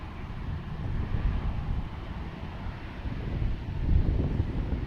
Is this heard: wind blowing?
yes